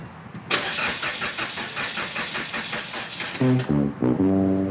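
A starter motor cranks a newly rebuilt EcoBoost engine in a fast rhythmic whir for several seconds without catching, followed by a couple of tonal horn-like blasts near the end.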